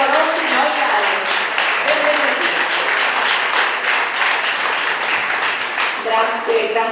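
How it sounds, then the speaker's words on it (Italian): Warm applause from a Lions club audience at an end-of-year gathering in Catania, steady clapping throughout with overlapping voices and chatter mixed in. "Accogliamoli con un caloroso applauso"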